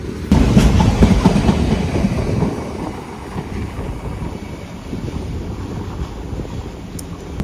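A BCNA goods train of covered wagons rolls past on an Indian railway line, with a loud rumble and rhythmic clickety-clack of wheels over rail joints, wind noise on top, easing slightly after the first seconds.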